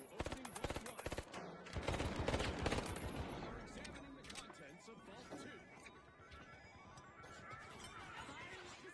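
Gunfire in The Finals, dense bursts of rapid shots and crashing impacts, loudest early on, then continuing more sparsely under voices talking over the game.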